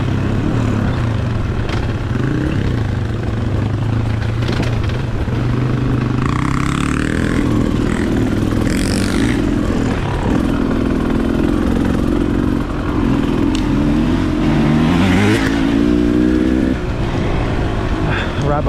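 Five dirt bikes ride together on a trail, their engines revving and rising and falling in pitch close by, with louder bursts from passing bikes and wind rush, loud and continuous throughout.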